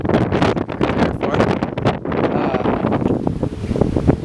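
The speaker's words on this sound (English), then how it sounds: "Very windy." Strong gusts buffet an outdoor microphone near civil defense sirens in Jamestown, North Dakota, giving a loud, continuous, rumbling roar that rises and falls in irregular bursts.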